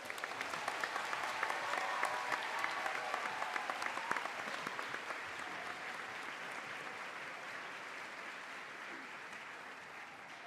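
An audience applauds the 5th grade chorus at a school celebration, a steady wash of many hands clapping that holds through the clip and eases slightly toward the end, with faint voices beneath.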